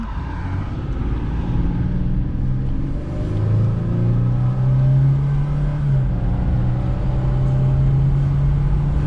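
A 2003 Ford Explorer on a test drive after a differential repair for a blown-out bushing, heard from inside as a steady low engine rumble that rises and holds as it accelerates, with no talking.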